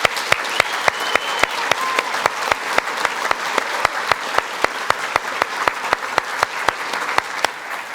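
A church congregation applauds students for perfect attendance, with a loud rhythmic clap close by, beating steadily about four times a second over a softer wash of general clapping.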